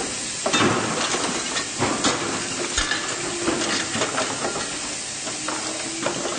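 Professor Eric Laithwaite's prototype metal sorter runs with a continuous hissing rumble while heavy metals and combustibles come off, scattered clatters and taps of pieces tumbling over it, fairly close and loud, no talk.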